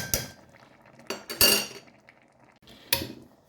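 A utensil stirring diced zucchini with fried onion and carrot in a pot gives a few sharp metallic clanks and scrapes against the pot, spaced apart, with quiet pauses between them.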